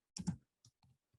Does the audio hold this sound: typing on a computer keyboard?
yes